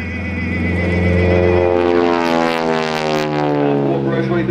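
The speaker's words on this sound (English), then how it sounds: "Pulls the nose of that big old 2-ton aircraft up, almost 3-ton airplane actually." A heavy piston propeller aircraft of nearly three tons flies loops at the Greenwood Lake airshow, its loud engine drone rising and sliding in pitch as it pulls up, close and continuous throughout.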